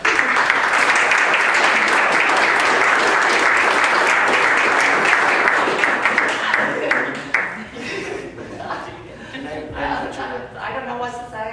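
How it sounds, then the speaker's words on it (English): A room applauds at a town board meeting honoring someone's community service, dense and loud clapping for about seven seconds, then thinning into scattered claps and murmuring voices. "Give a round of applause."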